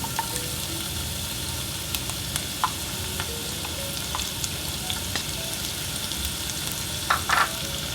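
Onions frying in hot olive oil in a pot, a steady close sizzle that runs the whole way through, with a few faint clicks and a brief clatter near the end.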